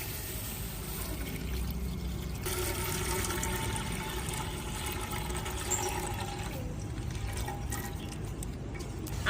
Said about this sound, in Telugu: 1/2 కేజీ రవ్వకి 1/2 లీటర్ పాలు పోసుకొని వేడి చేసుకుందాం